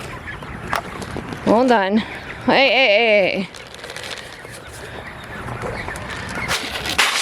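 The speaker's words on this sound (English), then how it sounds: "All right, let me feed these ducks." Ducks and a mixed flock of fowl calling at feeding time, with two loud bursts of harmonic quacking and honking close by, then quieter background clucking under a man's brief spoken words.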